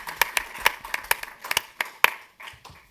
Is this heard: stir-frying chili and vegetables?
no